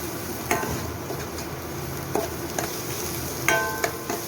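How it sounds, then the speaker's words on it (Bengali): Dry red chillies fry in oil in a pan for a Bengali sorso palong dish, a soft sizzle under several sharp spoon clinks and scrapes against the metal as they are stirred. No voice is heard. "এর মধ্যে শুকনো লঙ্কাটা ফেলে দিলাম। শুকনো লঙ্কাটা কিন্তু আমি তেলের মধ্যে দিয়ে নিই, যাতে পুড়ে না যায়।"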